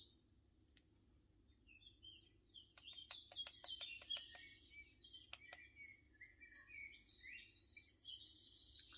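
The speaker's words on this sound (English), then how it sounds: "So I'm having bird noise, my sun on and my journal for the first hour of the morning." A relaxation sound machine plays birdsong ambience, quiet chirps and trills over a steady low hiss, with a faster run of sharp tweets in the middle and softer warbling continuing.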